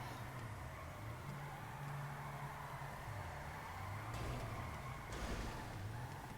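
Kei truck engine in a drifting video game, a quiet steady motor drone with wavering pitch as the revs rise and fall, plus brief hissy bursts of tire noise near the end.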